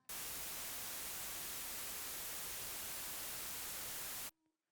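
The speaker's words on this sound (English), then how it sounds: "And white noise." White noise test signal from a Behringer X32c mixing console: a bright, harsh, steady hiss like loud static, running for about four seconds before cutting off abruptly into near silence.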